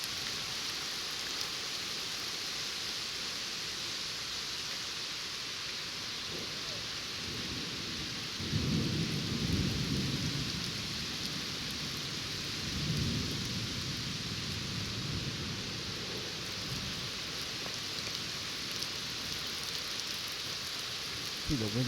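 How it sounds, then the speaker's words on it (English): Heavy rain pours steadily over New York Harbor during a severe thunderstorm, while deep rumbles of thunder from a close lightning strike roll in, loudest midway and again a few seconds later. "The lightning strike coming up soon."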